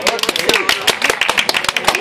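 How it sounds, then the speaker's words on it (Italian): A small group at a home birthday party clapping in quick, uneven bursts close by, with voices talking over the applause. "un applauso a festeggio"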